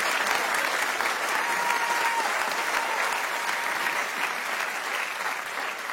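An audience applauds at a live comedy show, a dense, steady wash of clapping that carries on without a break and fades slightly toward the end.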